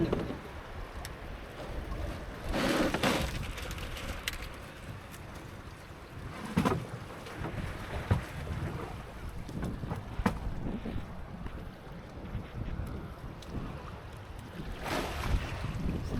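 A small fishing boat out on the open sea rocks in the waves as wind buffets the microphone, with low rumbling gusts, water sloshing against the hull, and scattered knocks and bumps, no voices.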